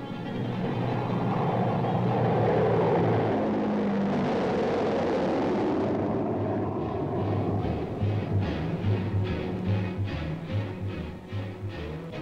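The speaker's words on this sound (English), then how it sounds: "the giant plane started to airlift men and equipment back to the United States safely and on schedule" Engines of a giant military transport plane roar during an airlift of men and equipment, a dense, steady drone that stays loud throughout with a faint pulsing toward the end.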